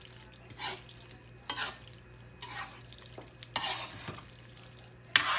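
Cooked macaroni stirred into reduced spaghetti sauce in a pan for Filipino-style macaroni spaghetti, with a few separate wet scraping and sloshing strokes spaced about a second apart over a low background hum, close and alone.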